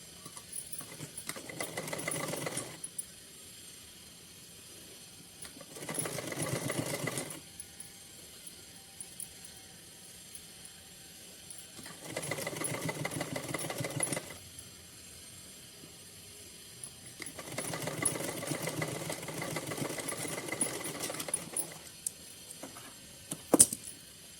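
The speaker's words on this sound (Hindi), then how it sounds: "चलिए इसको सिलते हैं।" A sewing machine stitches fabric for a small Kanha ji outfit in five distinct bursts of rapid whirring, each a few seconds long, separated by quiet pauses.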